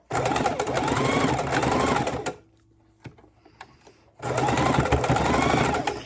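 Sewing machine stitching a fabric soup bowl cozy, running in two steady, loud bursts of rapid stitching separated by a brief pause with only faint handling noises.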